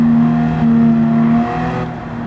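Honda NSX GR3 race car in Gran Turismo 7, its loud engine holding a steady drone that shifts pitch briefly as a gear change comes through, heard up close with no talk.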